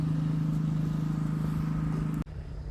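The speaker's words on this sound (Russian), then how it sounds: "На пляже идут работы, поэтому шумит машина." A construction machine runs on a beach in Dinard, Brittany, a steady loud engine drone with a low hum that cuts off abruptly near the end, leaving quieter ambience.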